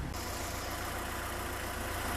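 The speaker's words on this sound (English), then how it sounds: "Now that's the real sound of the engine" A VW Golf IV engine idles steadily with a freshly fitted exhaust, a constant even drone at moderate level, heard alone without talk.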